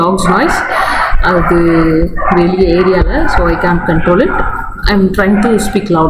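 Dog barking outside in the area, yapping and whimpering repeatedly at close-to-mid range and fairly loud, running under continuous talking throughout.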